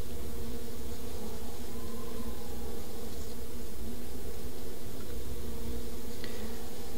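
A swarm of bees in the video game Back At The Barnyard buzzes with a steady, dense drone throughout, continuous and fairly loud with no talking.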